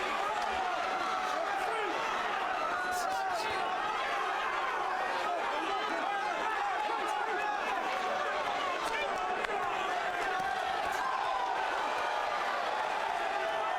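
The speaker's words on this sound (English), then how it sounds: "Crowd on its feet here. They're loving every minute of it." Boxing crowd at a professional fight night, roaring and cheering steadily throughout with scattered claps and shouts, a dense continuous wall of voices at a distance.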